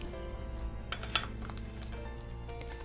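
A green tea tiramisu sponge cake, freed from a silicone mold, is set down onto a plate with a single light clink near the middle, over steady background music.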